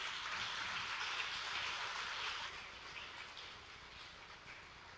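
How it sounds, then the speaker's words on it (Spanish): A Sunday church congregation applauds, a soft, distant hiss of many hands that is fuller at first and then thins and fades toward the end, with no voices heard. "Dale un gran aplauso al Señor."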